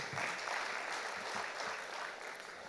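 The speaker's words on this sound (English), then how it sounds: "Can we give a round of applause for Dr. Deshpande?" Audience applause at a Poultry Federation of India annual general meeting, a fairly faint, even round of clapping in a hall, steady throughout and trailing off slightly at the end.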